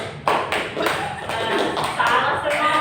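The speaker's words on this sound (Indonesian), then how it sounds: "Tepuk satu, tepuk dua, tepuk tiga" A classroom of students claps along in a counted clapping game, bursts of taps and claps in uneven rhythm with voices talking over them.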